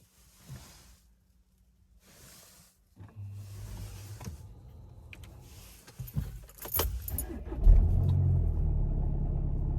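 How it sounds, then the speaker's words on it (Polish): A VW Golf MK7 2.0 TDI diesel jangles its keys, the ignition clicks, and then the engine cold-starts, with a rising rumble that settles into a steady, fairly loud idle. "Obiecany zimny start."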